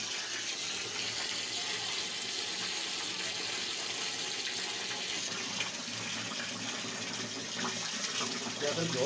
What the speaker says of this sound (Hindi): चावलों को अच्छे तरीके साफ करने के बाद भी धो देंगे।